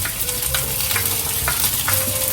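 Browned onions with ginger and garlic sizzle steadily in a pan, with a few scraping stirs cutting through the constant frying hiss; close and fairly loud, no talking.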